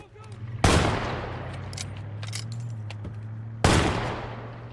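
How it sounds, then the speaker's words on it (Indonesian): Two sharp shotgun blasts fired at poachers in a film scene, about three seconds apart, each a sudden loud crack trailing into echoing decay over a low background hum. "Akhirnya dia pun bergegas mengambil shotgun dan menembaki mereka."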